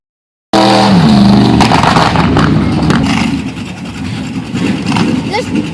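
A homebuilt 1936 Dodge hot rod pickup truck runs loud and close at an old-school drag racing event, its engine rumbling with uneven pops and crackles as it revs and settles.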